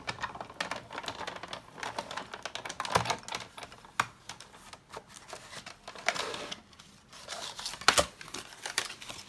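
A hand-cranked die-cutting machine cutting paper, with a dense run of close, crisp clicking and crinkling that keeps going steadily throughout and has sharper snaps now and then.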